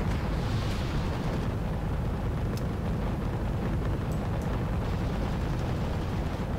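Artillery salvo explosions rumble in the Wargame: European Escalation strategy game, a dense, continuous roar of booming impacts with sharp cracks scattered throughout.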